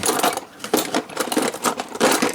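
Antique Seth Thomas clock mainsprings have their retaining nails cut with a tool, giving loud, sharp metallic snips and clatter in irregular bursts, close to the listener.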